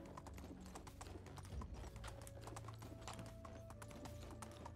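A donkey's hooves clip-clop in a quick, steady trot in Medieval Dynasty, faint and continuous, with game ambience and a droning tone underneath.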